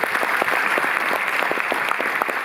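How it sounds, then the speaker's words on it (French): An audience claps steadily at the opening of a Darren Aronofsky film retrospective at the Paris Cinémathèque, a dense, continuous patter of many hands filling the room without a break. "je peux l'applaudir"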